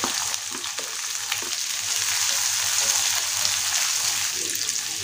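Finely chopped onion sizzles loudly and continuously in hot oil in a pan, with occasional soft stirring scrapes, for an okra curry; close and steady with no voice.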